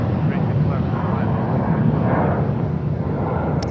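An eight-year-old American Airlines A321-200 airliner at Charlotte airport gives a steady low jet roar with a constant engine rumble throughout, while a person talks over it.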